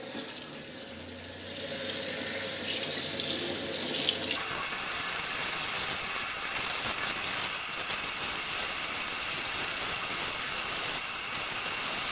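Water runs steadily from a tap onto fabric as tie-dye is rinsed out in a sink, a continuous close splashing rush that starts after a brief quieter moment and carries on alone.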